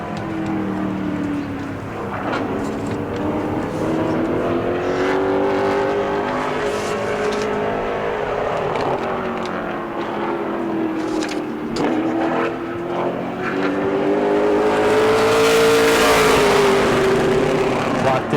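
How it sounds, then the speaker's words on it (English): A Pro Late Model race car runs a qualifying lap at New Smyrna, its engine revving loudly. The pitch rises and falls through the corners, with a louder surge near the end. "Taking the green flag for his first qualifying lap"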